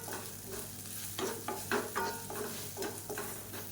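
Idli pieces tossed with idli podi in a pan, making a steady soft frying sizzle with several scraping stirs and clinks of the spatula against the metal.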